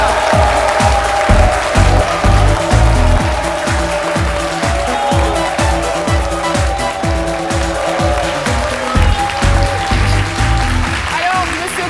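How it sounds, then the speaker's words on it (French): Loud, sustained applause from a large television studio audience, steady clapping filling the room with a few louder swells throughout. "Monsieur Traoré Moussa, que je vous demande d'applaudir."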